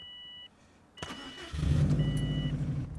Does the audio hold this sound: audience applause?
no